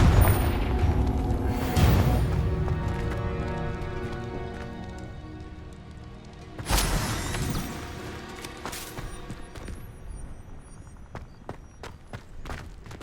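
The Confringo blasting spell goes off in Hogwarts Legacy, a sudden loud booming burst followed by a crackling decay, set among ongoing battle noise and rumbling explosions.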